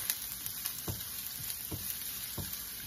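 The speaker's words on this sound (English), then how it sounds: "We'll just fry this for a few minutes" Ingredients for chicken chow mein frying in a pan, giving a steady, low sizzle with a few soft stirring scrapes spaced about a second apart, close and moderately quiet, with no talking.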